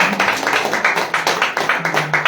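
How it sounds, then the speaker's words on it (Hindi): A church congregation claps together in thanks to Jesus, a loud, close burst of rhythmic handclaps beating in a fairly even pulse for a couple of seconds. "आइए सबसे पहले हम प्रभु यीशु मसीह को ताली में धन्यवाद देंगे।"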